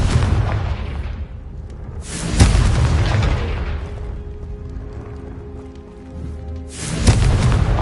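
Booming blasts of the Confringo fire spell in Hogwarts Legacy, with three loud explosive bursts, each trailing into a rumbling decay, close and dominant with no talk.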